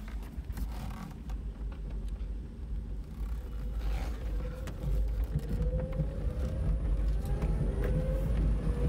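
A Reva G-Wiz electric car with an upgraded lithium battery drives off-road, giving a steady rumble of tyres and cabin rattle that grows louder, with a faint rising electric motor whine and some wind buffeting.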